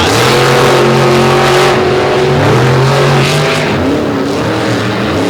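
Racing trucks launch off the line at a drag race, a loud, close engine roar whose pitch climbs and shifts through gears over a few seconds.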